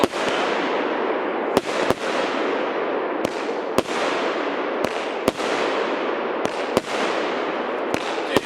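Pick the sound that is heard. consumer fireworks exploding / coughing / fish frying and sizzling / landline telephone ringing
consumer fireworks exploding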